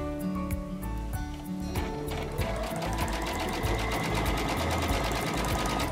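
A Baby Lock Crescendo sewing machine stitches through a thick stack of fabric layers, its needle pounding out a fast, even, rapid-fire rhythm over the motor's hum. The sound is close and continuous, with no speech.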